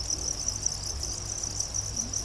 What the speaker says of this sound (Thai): อันนี้จิ้งหรีด โตเต็มวัยที่เราใกล้จะจับนะคะ